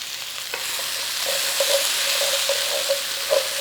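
Onions fry in a pan where browned fond sits on the bottom. The sizzle is loud, steady and hissing, with occasional soft scrapes from stirring, close up and uninterrupted by speech.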